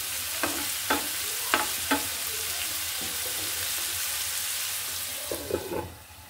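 Vegetable bhaji frying in a pan, a steady sizzle with several sharp clinks and scrapes of a spatula stirring the vegetables, close and clear, no voices.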